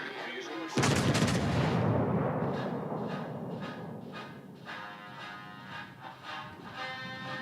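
Warship guns in World of Warships: Legends open with a loud, sudden broadside boom, then a long rumbling decay with scattered smaller blasts behind it.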